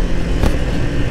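A new Kawasaki Ninja 500 engine being revved while the clutch is slipped, a brief, loud, raspy burst of engine roar close to the listener.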